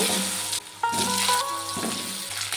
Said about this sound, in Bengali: এই তেলের মধ্যে আলুটাকে ভেজে নেব।